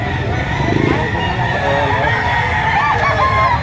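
Chickens at a poultry market in Lipa, Batangas, clucking and crowing close by amid a busy market bustle.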